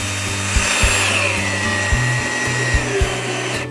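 A power drill drives screws into pallet wood during a bench build, its motor whirring loud and close in repeated bursts and pitch changes as each screw bites and pulls the slats tight.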